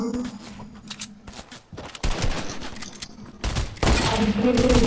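Heavy video game gunfire, dense bursts of automatic fire crackling close and loud, swelling into a sustained barrage toward the end.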